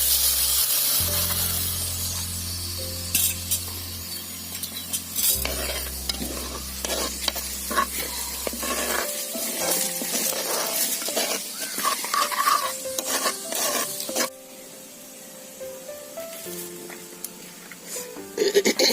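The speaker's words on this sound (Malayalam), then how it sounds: "ഇനി വെള്ളം ഒഴിക്കാൻ പോവാ." Water is poured into a hot pan of home-made remedy, setting off a loud, continuous sizzle, with spoon stirring and scraping against the pan, and a low hum in the first half.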